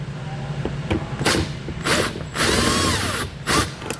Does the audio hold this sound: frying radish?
no